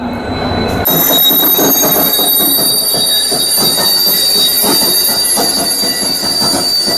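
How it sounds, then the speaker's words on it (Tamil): An Indian Railways special express from Mysore, pulled by an Erode-shed WAG7 electric locomotive, rolls past loudly and close, with rhythmic wheel clatter, high squealing from the wheels and steady rumble, and no voices. "WAG7 ஈரோடு சேர்ந்த இந்த லோக்கோ தாங்க புல் பண்ண போகிறது"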